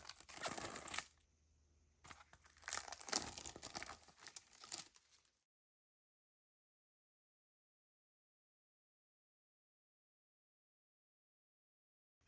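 Plastic wrapping on a Hinatazaka46 CD package being torn and crinkled up close, loud bursts of crackling over about five seconds, then silence.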